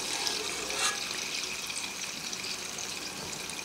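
Cooked cheese canederli dumplings are drained from their boiling water, a steady, rushing pour of water with a bright hiss, moderately quiet and continuous, and no voices.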